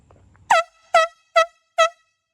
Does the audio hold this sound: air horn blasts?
yes